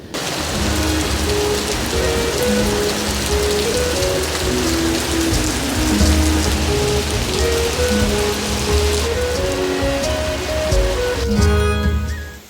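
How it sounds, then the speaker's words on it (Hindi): Heavy monsoon rain pours down steadily at a mountain home, a dense close hiss, while faint melodic tones play underneath throughout. "क्या ही बारिश लगने लग गई"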